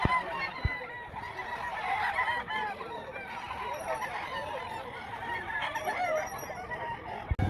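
Gamecocks at a fighting-rooster market in Lipa, Batangas crow and cluck continuously in a dense, close chorus, with brief faint voices in the background.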